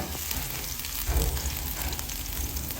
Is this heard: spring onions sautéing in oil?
yes